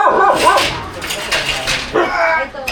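A dog barks and yips repeatedly at a cobra, close and loud, with short bursts and whimpers between them while people talk over it.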